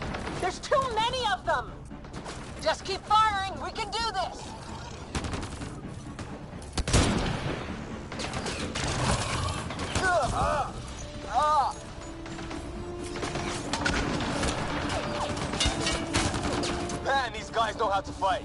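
Rapid gunfire in the sci-fi shooter Mass Effect Andromeda, with bursts and single shots crackling throughout a chaotic firefight, mixed with game music, effects and voices talking over the action.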